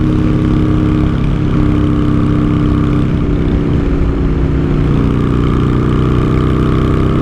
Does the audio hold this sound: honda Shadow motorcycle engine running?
yes